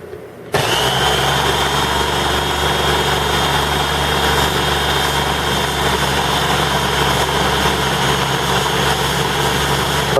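A food processor motor starts abruptly and whirs at a constant high-pitched drone, loud and close, as pistachios are ground down into nut butter, running without pause for about ten seconds.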